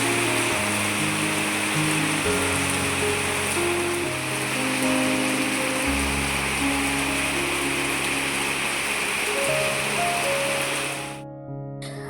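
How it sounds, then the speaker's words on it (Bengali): Heavy monsoon rain pouring down outdoors in a steady, loud, dense hiss that runs continuously and cuts off abruptly near the end. "এই যে দেখো ঝমঝম করে বৃষ্টি নেমেছে"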